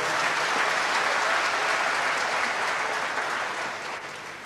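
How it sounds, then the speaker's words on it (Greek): Applause from a concert audience at a tribute event, a dense steady wash of many hands clapping that slowly fades toward the end. "Χειροκρότημα, παρακαλώ"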